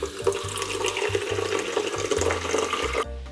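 Water runs steadily from a kitchen tap while pastry is being made, a continuous broadband rush with a low rhythmic hum beneath, cutting off abruptly near the end.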